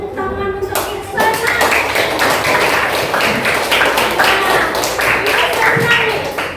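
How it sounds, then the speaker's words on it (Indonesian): A class of schoolchildren claps for a classmate, Ihsan: dense, fast, steady clapping from many hands, loud and close, keeping up for several seconds after a brief spoken lead-in. "Beri tepuk tangan untuk Ihsan."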